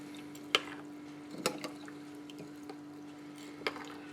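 Soaking rice is stirred by hand in a bowl of water, giving a few soft wet squishes and drips spaced apart over a steady low electrical hum, with no talk.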